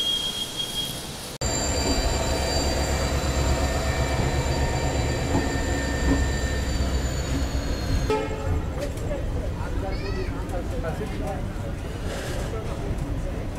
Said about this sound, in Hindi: और भाई साहब यहाँ हो गई चेन पुलिंग